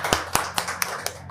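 A congregation at a church service claps in a short burst of about six sharp, evenly spaced claps, loud and close with no talk over them.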